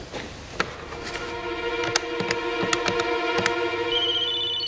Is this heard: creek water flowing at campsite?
no